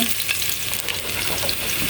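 Garlic and onion sautéing in hot oil in a pot for mung bean and vegetable stew, a steady close bright sizzle with faint stirring throughout, no voices.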